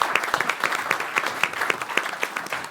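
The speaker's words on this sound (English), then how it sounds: "So special applause to you, Alain." Audience applause at a EUROCAE symposium panel: a steady patter of many hands clapping, fairly close and even, running throughout without voices.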